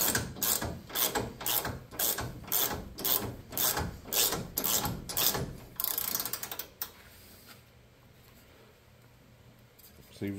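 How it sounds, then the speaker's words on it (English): Close, loud ratchet clicks in a steady rapid run tighten a bolt on a homemade radiator mount for an LS-swapped Suburban, stopping after about seven seconds and leaving quieter garage background. "let's go ahead and tighten this down, see where it puts us."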